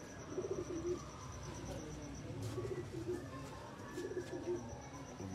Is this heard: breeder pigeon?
yes